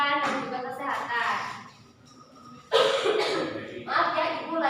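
During a microteaching lesson, a female teacher's harsh coughs come in a few loud bursts, close to the microphone and mixed with talking.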